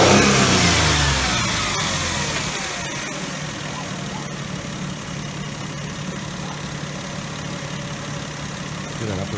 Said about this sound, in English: You can also rev your engine a little bit to speed things up.